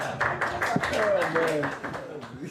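A crowd of Chassidim claps in quick, uneven bursts during a Daf Yomi Menachos class, the sharp claps mingling with voices and tonal sounds throughout.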